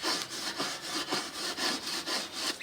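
Old brick paver rubbed back and forth along a wooden edge to smooth it, giving a steady series of rough, gritty strokes at an even rhythm, close and fairly loud, with no talking.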